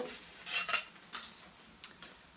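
Metal cutlery, including a knife, is handled and knocked together, giving a handful of sharp, close clinks and rattles spread irregularly over a couple of seconds with no talking.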